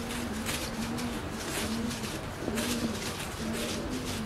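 Pigeons coo close by in a low, repeated rolling call, several phrases in a row over a steady background wash.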